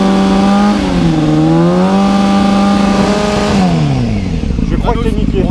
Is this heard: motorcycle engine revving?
yes